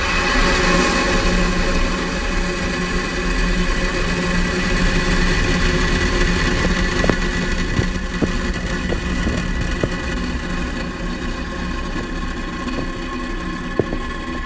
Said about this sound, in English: Ignition and liftoff of Falcon 9.